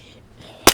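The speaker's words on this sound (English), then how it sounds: "Watch, I get sniped right now." A single sharp sniper gunshot in the survival game DayZ cracks out suddenly near the end, loud and close, after a stretch of quiet ambience.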